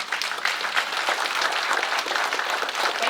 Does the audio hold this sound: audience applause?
yes